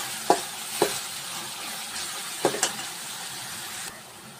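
Chopped onion sizzles steadily in a hot pan while a spoon scrapes and stirs it in a few distinct clacks, close and fairly loud, with no talking.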